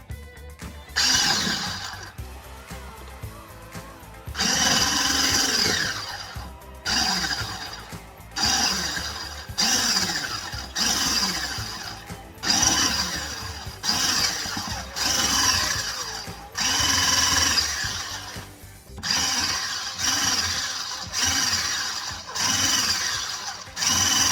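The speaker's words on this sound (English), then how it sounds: "And with a whisk, I'm just going to blend it all in together." Milk, about 200 ml, being whisked into a malai mix for a milk cake, heard as a steady run of rapid scraping, whirring bursts separated by short pauses across the whole stretch, close and fairly loud, with no talking.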